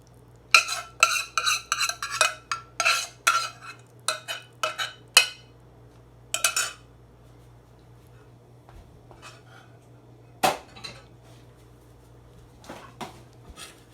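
A spoon stirs a granola mixture of oats, coconut oil, sweeteners and salt in a bowl, making a quick run of scraping, clinking strokes that thin out into scattered knocks, close and fairly loud.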